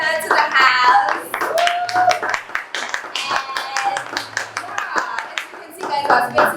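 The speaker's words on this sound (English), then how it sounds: "I would like us to give her a round of applause and welcome her to the house" An intimate audience claps to welcome a guest, steady scattered handclaps from a small room crowd, close and lively, with voices and a speaker talking over it.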